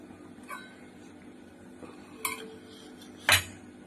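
A metal kadai set down on a kitchen stove and handled, a few separate knocks and clinks, the last one sharpest and loudest, close by with no voices.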